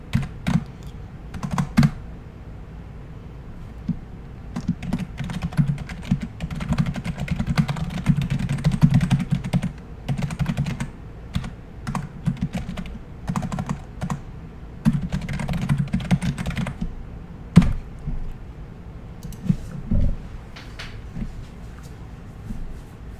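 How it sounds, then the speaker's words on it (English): Rapid clacking of a mechanical keyboard being typed on, dense bursts of keystrokes with brief pauses, close and fairly loud with a low background hum. "Yeah, it's just a mechanical keyboard."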